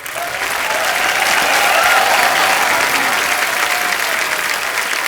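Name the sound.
studio audience applause on a TV comedy show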